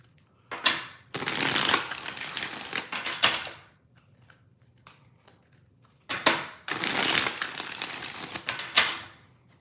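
Tarot cards being shuffled in two rounds of crisp, rapid riffling bursts, each a few seconds long and separated by a quiet pause, close and clear with no talk.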